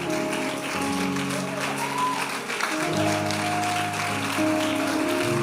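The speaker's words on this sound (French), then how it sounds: "Continuons d'acclamer." Church congregation applauding in a steady, continuous patter, with sustained tones from accompanying music or singing running beneath the clapping throughout.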